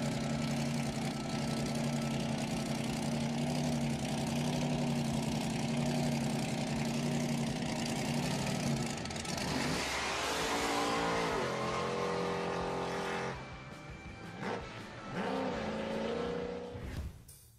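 A Chevrolet S3 concept car shown at the 2012 Chicago Auto Show, its engine holding a loud, steady idle before rising through several sweeping revs that climb and fall, with no talking.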